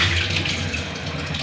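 Running water pours and splashes as lentils (dal) are washed in clean water in a village kitchen, a steady, close gushing sound with no talking.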